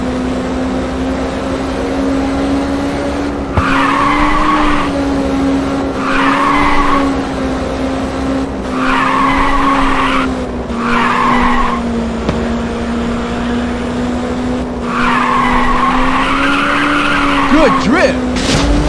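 Tires squeal in repeated long bursts as a car drifts through corners in the PSP racing game Ridge Racer 2, over a steady droning engine note, with a brief voice near the end.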